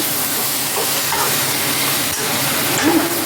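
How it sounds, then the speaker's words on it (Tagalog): Cabbage and egg stir-fry with soy and oyster sauce being stirred in a pan, a steady loud sizzle with faint scraping throughout. "And lagyan natin ng oyster sauce. Haluin lang."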